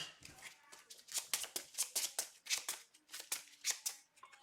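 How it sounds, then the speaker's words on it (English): A deck of playing cards being shuffled in a card game, a rapid run of crisp riffling bursts in steady rhythm, close and fairly loud, with no talk over it. "I am going to shuffle Honey Badger back into my deck."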